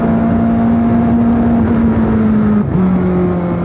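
A 1970 Formula 1 racing car at Monaco accelerates in fourth gear along the circuit toward the gasworks hairpin, its engine a loud, sustained onboard whine with a brief dip at a gear change.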